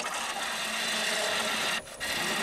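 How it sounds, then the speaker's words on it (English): A bowl gouge cutting a live edge crotch wood bowl on a lathe makes a steady, loud hissing scrape that briefly drops out near the end, heard close up without speech. "Nibbling away, removing that nice and slowly."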